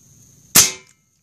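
A single sharp crack from an Airforce Escape UL .22 air rifle being fired indoors, loud and close, followed by a short decaying ring, with quiet before and after.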